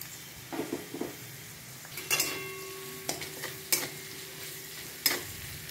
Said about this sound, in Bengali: এবার আমি লঙ্কার কুচিটা দিয়ে দেব